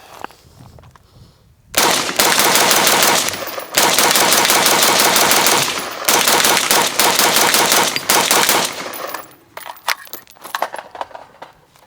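Tavor SAR 18-inch IDF Special Edition rifle firing in rapid sustained strings at a range, loud sharp shots in three bursts separated by short pauses, followed by scattered single shots and metallic clinks.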